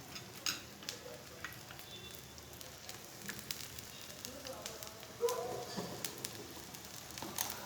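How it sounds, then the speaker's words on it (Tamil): Chopped green chillies frying in garlic oil, a faint steady sizzle with small crackles and a few soft stirring sounds, under quiet talk. "இந்த பூண்டு எண்ணெயில் இது பண்ணும்போது அதில் நான் பச்சை மிளகாய் சின்ன சின்னதாக கட் பண்ணி வச்சுருக்க பச்சை மிளகாய்"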